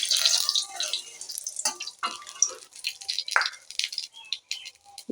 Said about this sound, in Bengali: তেল হয়ে গেছে লঙ্কা দিয়ে দিচ্ছি প্রথম লঙ্কাগুলো দিলাম